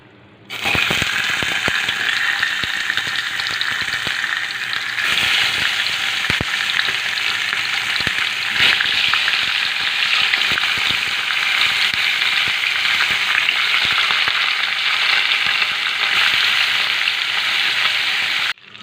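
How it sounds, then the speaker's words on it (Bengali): Fish fries in mustard oil in a hot wok, a loud steady sizzle and spatter running throughout, broken by scattered sharp taps of a utensil against the pan. "কড়াই গরম হয়ে গেছে, ভেজে নেব মাছগুলো।"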